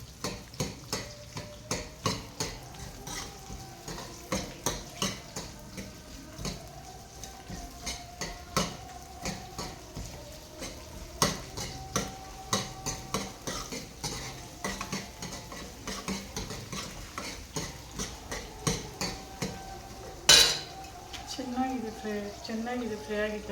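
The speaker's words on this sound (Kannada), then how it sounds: "ಆನಿಯನ್ಸ್ನ ಒಂದು 3 ಸೆಕೆಂಡ್ಸ್ ಫ್ರೈ ಮಾಡಬೇಕು ಚೆನ್ನಾಗಿ." Onions fry in a pan for a fish curry while a spoon stirs and scrapes them in irregular clinking strokes over a soft sizzle, with one sharp clatter near the end and someone speaking over it.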